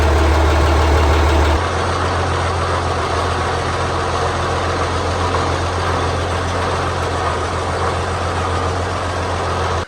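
A tractor engine hauls a New Holland 316 hay baler back into a barn, running as a steady, close, loud idling drone with a heavier low rumble in the first second and a half, then an even hum throughout.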